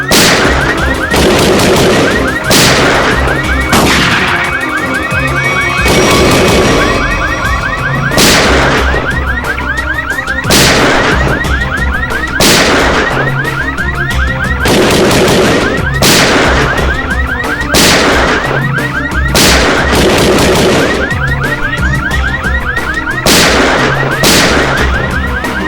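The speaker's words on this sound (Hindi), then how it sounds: "तो कोई अलार्म लगता है, शॉकर अलार्म।" A loud, repeating electronic alarm with sharp, explosive bursts at regular intervals, continuous and harsh with no talking.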